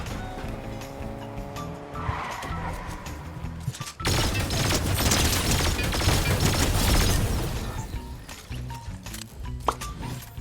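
Car drifting in Fortnite: an engine revs up, then a long loud tire screech and skid with rumbling and crashing, easing off into engine hum.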